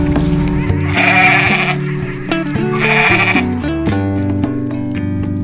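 Wild goat bleating in two drawn-out calls over steady background music, the bleats loud and close with a pause between them.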